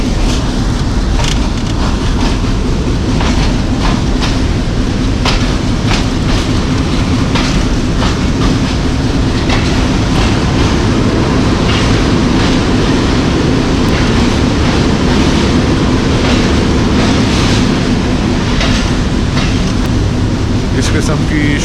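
A Rawalpindi passenger train runs along the rails in the rain, with a loud, steady low rumble and a regular clickety-clack of wheels over joints throughout, heard from inside the moving carriage.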